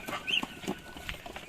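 Hen on a farm giving short, soft clucks in a loose, irregular series, fairly close and quiet, with some light background farmyard noise.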